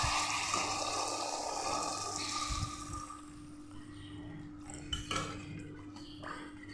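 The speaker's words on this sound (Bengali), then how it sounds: "এখানে ভালো মতো সাঁতলিয়ে নিয়ে আমি এখন জলটা দিয়ে দিব।" Water is poured into a pan of sizzling spices for a Kashmiri paneer curry: a loud rushing hiss and sizzle for a couple of seconds, then quieter bubbling with light clinks of a utensil.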